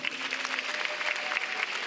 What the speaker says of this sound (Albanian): Një duartrokitje për Klodin.